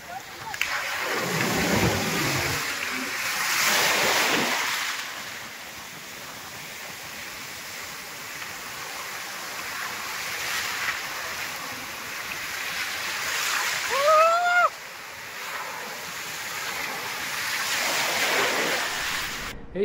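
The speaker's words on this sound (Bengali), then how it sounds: "কি বিশাল বড় বড় ঢেউ," Big sea waves crash and wash up on Gopalpur beach in broad surging swells under gusty wind noise, with a brief whistle-like tone midway and a voice faintly present.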